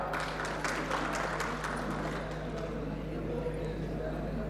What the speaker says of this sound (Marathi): त्यांच्यासाठी पुन्हा एकदा जोरदार टाळ्या.